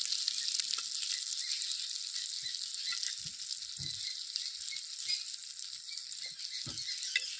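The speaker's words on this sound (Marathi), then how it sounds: "मी आता मी ती भाजून घेतलं जास्त भाजायची नाही का ती चिवट रबरासारखी जाते" Prawns frying in a pan for a Malvani-style village prawn fry, giving a steady, close, bright sizzle throughout with a few soft stirring knocks and no talking.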